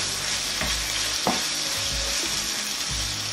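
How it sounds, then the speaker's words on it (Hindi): Whole spices fry in a pan for a Kabooli rice dish, a steady close sizzle broken by a few soft stirring knocks and scrapes. "पहले मसालों को थोड़ा सा भूनूंगी मसाले जब भुन जाएंगे फिर हम इसमें टमाटर भी ऐड करेंगे।"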